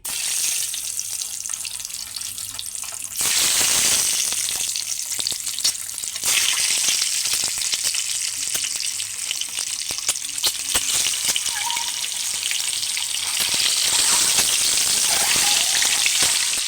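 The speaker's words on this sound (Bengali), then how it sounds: "তো প্রথমেই আমি কিন্তু সাদা তেলের মধ্যে চারটে ডিম ভেজে নেব" Four eggs frying in white oil in a pan, a loud continuous sizzle that surges and crackles with bursts of spattering.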